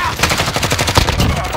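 A rapid, loud burst of automatic gunfire in Call of Duty: Modern Warfare Warzone, with sharp shots rattling off in quick, even succession up close.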